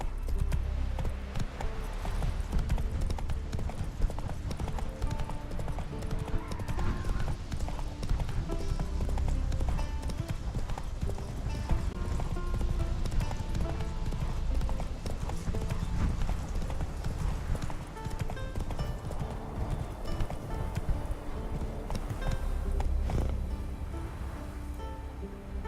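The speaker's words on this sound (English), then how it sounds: "This might be where I start riding the horse" A horse gallops in The Witcher 3: Wild Hunt, its hooves clip-clopping in a continuous fast rhythm, loud and close, with an occasional whinny mixed in.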